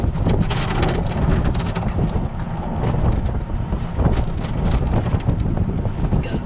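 A small boat runs at full throttle, its engine a steady loud drone that blends into heavy wind buffeting the microphone and rushing water, unbroken and close for several seconds.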